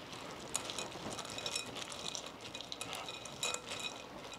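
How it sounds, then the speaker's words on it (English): A spoon stirs crushed pretzels through a no-bake Christmas treat mixture in a bowl, giving soft, steady scraping and light crunchy rustling with a few sharper clinks, close and fairly quiet. "All right, let's stir."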